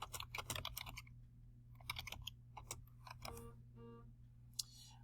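Rapid typing on a computer keyboard while a program is being named, with uneven bursts of close, crisp key clicks separated by short pauses.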